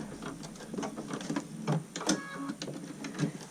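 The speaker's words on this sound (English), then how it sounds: "this zigzag stitch right across that binding, and then tie off." A sewing machine runs a zigzag stitch across fabric binding on a PPE face mask, giving a steady, fast mechanical rattle with irregular ticking peaks, close by and alone.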